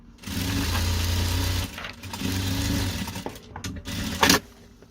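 A sewing machine stitching fabric for a handmade patchwork bag runs in two steady whirring bursts, pauses while the work is turned, then gives a few shorter clattering stitches close to the microphone.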